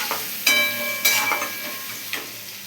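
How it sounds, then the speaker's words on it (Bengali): Tomato, salt, dried chili powder and turmeric spice mix frying in a pan, a steady sizzle with a few scraping stirs of the spoon, close and alone. "এরপর মশলাটাকে একটু ভালো করে নাড়াচাড়া করতে হবে।"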